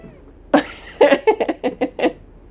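A young male kitten named Nugget meows close by in a quick run of about seven short, chirpy calls that come in uneven bursts and are spaced under a second apart.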